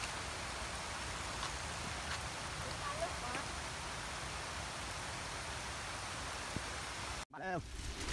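Heavy rain falls during a bike ride in rural Thailand, a dense, steady hiss of downpour filling the whole stretch, with a brief abrupt thump and disturbance near the end.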